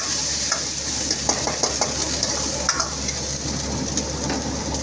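Curry leaves hit hot oil alongside ginger-garlic paste for South Indian chicken sukka, giving a continuous close sizzle with repeated sharp crackles and pops and light stirring.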